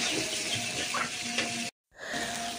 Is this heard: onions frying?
yes